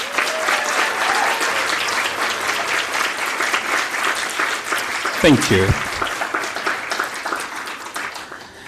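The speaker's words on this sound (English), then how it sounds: "if we can give them a very big round of applause" Strong audience applause for award nominees at a community sponsorship awards night rolls on steadily, with a short spoken thanks breaking in midway and the clapping easing toward the end.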